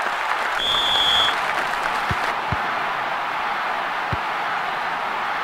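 Stadium crowd in the football game ISS Pro Evolution, a steady hissing roar of applause and cheering that carries on evenly throughout, with a brief tone early and a few low thuds.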